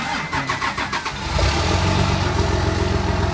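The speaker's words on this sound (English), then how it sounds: "you guys probably want to hear the truck. Hold on, start it up. Let you guys hear it." A Cummins diesel truck with a 6-speed cranks in rapid rhythmic bursts, then fires and settles into a loud, rough, rumbling idle close by.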